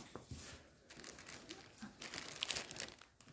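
A cross-stitch canvas being turned over gives close, quiet crinkling and rustling, with soft irregular crackles and a few sharper papery snaps through the short stretch, no voices.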